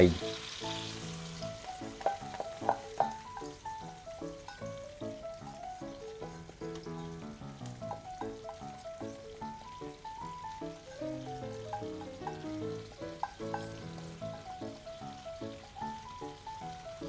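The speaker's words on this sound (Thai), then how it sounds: "ให้เดือดประมาณ20วิแล้วใส่เครื่องปรุงที่ผสมไว้ลงไป" Mixed seasoning poured into a boiling pan for Japanese chicken rice bowl (torimdon) bubbles and sizzles steadily, with scattered clinks and stirring under it, moderately close and fairly quiet throughout.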